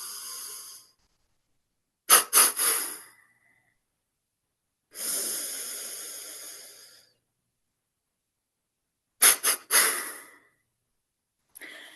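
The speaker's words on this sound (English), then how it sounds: "exhale in 3 sharp breaths" Forceful yoga exhalations through the nose, delivered in sharp triple bursts twice, with a long slow breath between, each pulse loud and close against silence.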